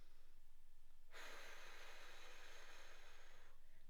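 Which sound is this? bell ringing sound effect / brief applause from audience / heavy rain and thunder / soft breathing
soft breathing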